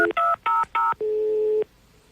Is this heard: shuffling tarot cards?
no